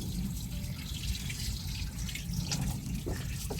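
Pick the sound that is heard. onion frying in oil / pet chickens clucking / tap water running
tap water running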